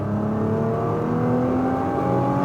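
A Nissan GT-R at full throttle on a track accelerates hard out of a corner, its engine note a loud, steady, rising whine-roar heard close and continuously throughout.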